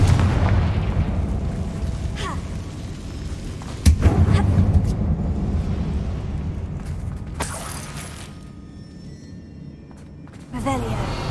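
A Confringo fire spell explodes in Hogwarts Legacy, a sharp booming blast midway over rumbling game ambience, with another burst near the end and speech-like game audio around it.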